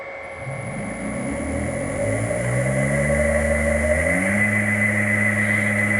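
A motor hums steadily with a rising, whining pitch as it spins up on a vintage AT1 three-phase inverter, joined by a constant fan drone and a high electronic whine.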